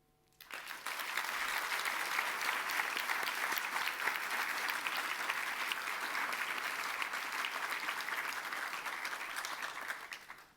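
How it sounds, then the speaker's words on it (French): Audience applause at a doctoral graduation ceremony, starting abruptly after a near-silent moment and holding as a dense, steady wash of many hands for about ten seconds before tapering at the end. "je vous propose de les applaudir."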